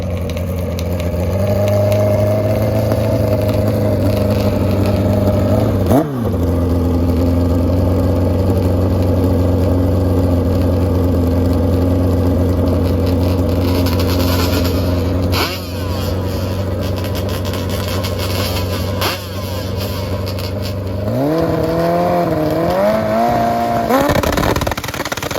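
A Turbo Hayabusa four-stroke and a Banshee Triple two-stroke dirt drag motorcycle at a dirt drag race, heard as a loud, sustained engine drone with shifting tones that rises into revving near the end.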